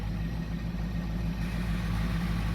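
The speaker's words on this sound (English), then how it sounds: "Oh, look how smooth it's idling, Jacob." A Mopar 440 V8 with a misfire being chased idles steadily, a continuous low, even rumble heard close up with no voices over it.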